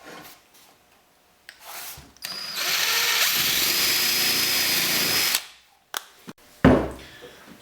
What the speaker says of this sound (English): now I'm going to pre-drill some holes with a countersink bit